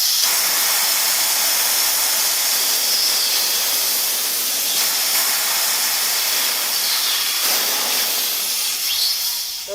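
A Tuxing air compressor motor runs steadily, not under pressure, giving a continuous loud broadband hiss and whir with no talking.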